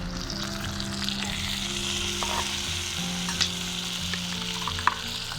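Eggplant pieces and roasted, lightly crushed field beans sizzle steadily in hot oil in a pan over a village wood-fired stove, with a continuous loud frying hiss and a few stirring clicks.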